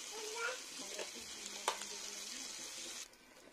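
A spoonful of butter melts with a little refined oil in a pan, giving a soft, steady sizzle close by, with a brief clink of a utensil partway through before the frying quiets.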